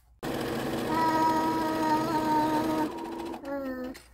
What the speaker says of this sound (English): So let's go ahead and get sewing.